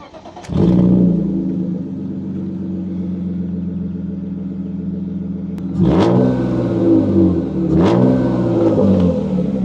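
A BMW E36 drift car engine idles loudly, then revs sharply several times in quick bursts, close and throaty, with no talking.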